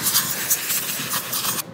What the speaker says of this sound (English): Spray getting all the little pieces of paper out.